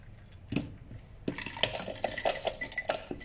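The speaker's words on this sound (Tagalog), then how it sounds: "Tapos, lagyan na natin siya ng ice." Ice dropped into a blender jar for a papaya shake, a few distinct clinks and knocks against glass scattered over a few seconds, fairly close.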